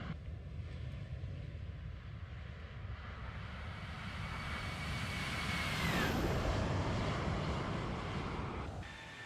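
Jet engines of a Toliss A321 airliner in a flight simulator drone with a steady broad roar that swells gradually, with a whining tone sweeping downward midway before the roar eases slightly.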